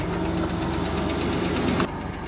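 A Cummins diesel truck engine idles roughly, missing on a cylinder, with an uneven, stumbling rumble, steady and close, ending with a slight drop in level.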